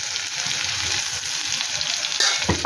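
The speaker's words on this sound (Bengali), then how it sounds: "ওই কড়ার মধ্যে আমি রসুন থেতো করা দিয়ে দেবো।" Crushed garlic frying in a hot pan for a dried fish dish, a steady close hiss and crackle of sizzling oil that brightens slightly near the end, with no talking.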